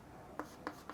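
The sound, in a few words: writing on a board during a maths lesson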